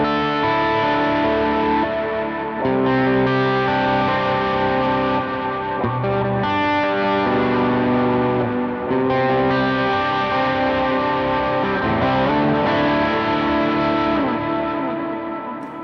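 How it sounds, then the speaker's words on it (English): Distorted electric guitar chords ring out with trailing delay repeats washed in a spacious reverb tail, continuous and loud throughout. "let's add in the reverb now"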